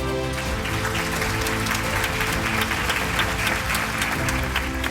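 An audience at a singing reality show grand finale applauds the participants, a dense, steady roar of clapping over sustained music tones, lasting the whole stretch without talk.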